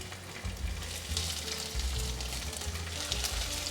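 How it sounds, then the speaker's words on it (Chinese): Vegan tofu nuggets pan-fry in hot oil in a nonstick flat pan over medium-high heat, a dense continuous sizzle close up with no voices. "油热了，放进来煎"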